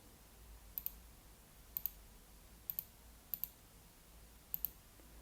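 Computer mouse clicks while drawing a polygon on a map: five quick double clicks spaced about a second apart, faint and close, over a quiet background hum.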